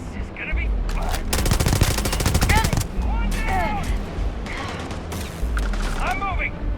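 Rapid automatic gunfire in the video game Starfield, a dense sustained burst of shots with scattered single reports, layered under shouted voices and game effects.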